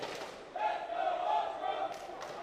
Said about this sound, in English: bit of Let's Go Ultra in the crowd here at the moment